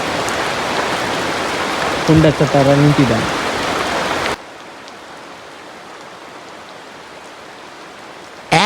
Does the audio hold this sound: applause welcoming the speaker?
no